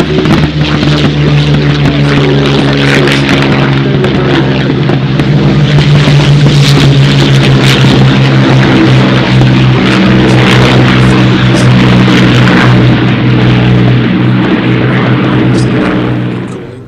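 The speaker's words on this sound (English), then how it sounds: "So we're getting the aircraft for our Russian front scenario into the air, starting with the Buchons" Buchon propeller fighters take off at the Duxford Battle of Britain Airshow, a loud, close, continuous engine drone with strong steady tones that holds throughout and fades slightly at the very end.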